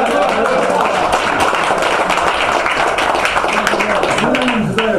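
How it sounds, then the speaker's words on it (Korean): Audience at a Korean gathering clapping steadily, a loud continuous wash of applause from a crowd with some voices mixed in underneath. "박수 한 번"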